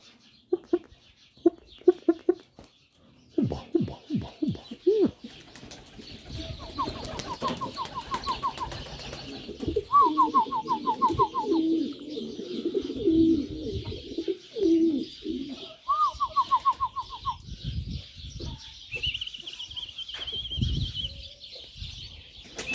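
Pigeons in a pigeon loft coo in repeated rolling bursts, close and fairly loud, mixed with wing flaps, clucking and scuffling sounds and a few sharp taps, with a rising call near the end.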